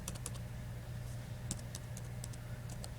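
Fingers type on a computer keyboard in quick irregular bursts of light clicks and taps, close but soft over a steady low background hum.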